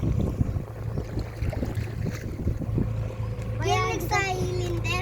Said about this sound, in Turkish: Şu an teknedeyiz.